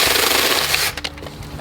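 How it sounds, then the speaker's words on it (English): A small chainsaw cuts branches into short lengths for filling a raised garden bed. It roars loud and close for about a second, then cuts out to quieter scraping. "A couple of years ago I got one of these tiny chainsaws."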